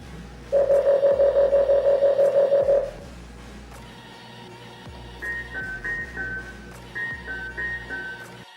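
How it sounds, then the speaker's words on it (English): A Tissue-Tek VIP 6 AI tissue processor control panel sounds a steady electronic alarm tone for a couple of seconds, followed by several short, higher-pitched beeping chimes in a repeating pattern. "You can choose from several different alarm tones."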